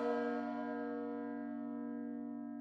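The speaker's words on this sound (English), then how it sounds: "The bell." A large bell rings with one sustained, resonant strike in a mechanism worked by a lever and gears, its rich harmonic tone slowly decaying over a few seconds with no talk, ending in a short sharp knock.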